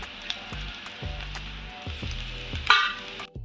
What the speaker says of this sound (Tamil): இதையும் அந்த புழிஞ்சு வச்சுருந்தோம் இல்லையா பாவக்காய், அதை அந்தையும் அப்படியே போட்டு வதக்கிக்கங்க